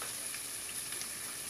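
Oil sizzling in a heated pan while cooking a Brazilian tripe and white bean dish, a steady close hiss and crackle that holds evenly throughout with no talk.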